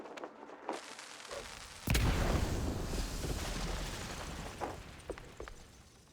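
Firecrackers go off in a wooden attic in the video game Mouse: P.I. for Hire: a sharp bang is followed by a sustained rumbling roar with scattered pops and crackles, moderately loud with no talk.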